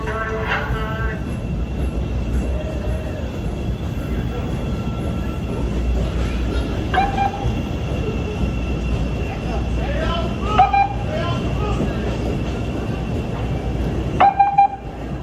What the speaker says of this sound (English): I went to Linden to get a better shot of the CTA Purple Line holiday train there.